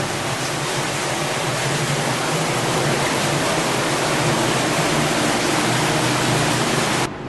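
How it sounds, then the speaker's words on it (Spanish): Cold, knee-deep water flows through a dark tunnel beneath the City of David, filling the space with a steady, loud, close rushing wash that holds unchanged throughout with no voices. "Aquí pasa las rodillas el agua y está bien fría, aún en verano."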